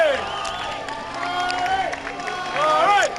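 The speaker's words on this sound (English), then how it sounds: "As the crowd cheers him on" Crowd cheering on an Olympic torch bearer as he runs past, a dense roar of voices and shouts with scattered clapping, rising louder toward the end.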